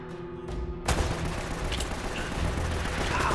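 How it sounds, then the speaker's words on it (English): Gunfire aimed at the player in Uncharted: Drake's Fortune, with a couple of sharp shots up front, then a heavy blast and a sustained noisy barrage of shooting and debris, loud and continuous. "Right, where am I getting shot from?"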